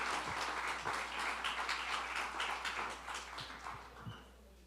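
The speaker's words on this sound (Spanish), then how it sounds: "Démosle un aplauso al Señor por el hermano que va a traer la palabra hoy." A church congregation applauds, with fairly faint, steady clapping filling the room and a few sharper claps standing out before the sound eases off near the end.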